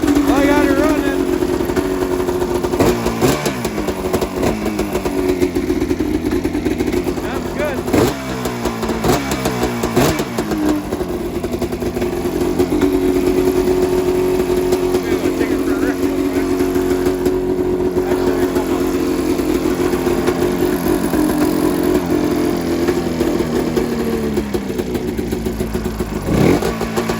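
A Mountain Cat snowmobile engine runs steadily after a repair, a loud, continuous mid-pitched drone with a few brief revs rising and falling over the first ten seconds, while a person talks over it.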